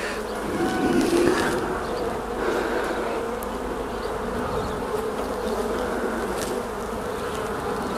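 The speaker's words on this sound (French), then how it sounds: "Beaucoup de jeunes abeilles en tout cas, toutes jeunes, avec le dos gris, leur petit duvet." Honeybees buzz around an open hive during a transfer from a small nucleus box into a full hive, a steady close swarm hum with a slightly louder swell early on and no voices.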